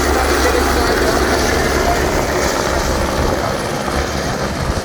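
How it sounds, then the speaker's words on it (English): Helicopter flight toward Mendenhall Glacier near Juneau, Alaska, with a loud, close, continuous rotor and engine roar and low thumping that stays steady throughout, with no talk over it. "taking a helicopter ride to walk on the ice is the ultimate way to do it"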